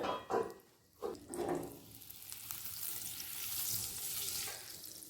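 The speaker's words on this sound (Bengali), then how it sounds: "প্রথমে পনিরটাকে একটু ভেজে নেব একই সাথে দিয়ে দিচ্ছি একটু বাটার" Paneer frying in white oil with a little butter added in a wok, giving a steady broadband sizzle after a few brief clatters at the start, close and moderately loud with no talking.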